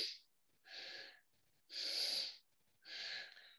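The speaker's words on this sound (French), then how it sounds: "la respiration inversée, c'est ça" A person demonstrates reverse breathing, with four loud, breathy strokes alternating between inhaling and exhaling, each lasting about half a second to a second and separated by short pauses, up close with no talking.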